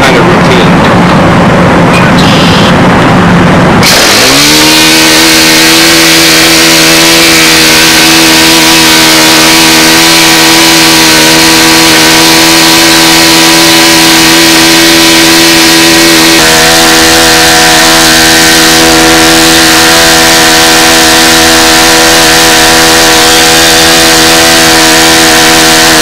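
A model airplane engine on a Windy Typhoon fires up after a few seconds of quiet handling, then holds a loud, steady high-pitched buzz with strong harmonics for over twenty seconds, shifting pitch slightly midway.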